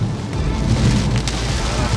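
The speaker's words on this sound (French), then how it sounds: "bonne pluie, bien drue." Heavy rain on a small road in the Scottish Highlands drums steadily and densely on a stopped Cupra Formentor VZ5. The dull, continuous wash is heard from inside the car.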